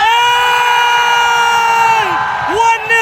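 A football crowd at a Bangkok FC match erupts after a goal, a loud, dense roar of cheering with sustained horn-like tones and chanting voices filling the stands.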